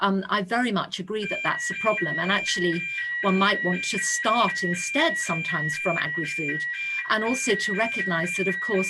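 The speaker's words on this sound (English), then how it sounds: "that was our fire alarm going on off in my building" A building's fire alarm sounds as a steady high-pitched electronic tone under continuous speech from a person talking, holding level for most of the stretch.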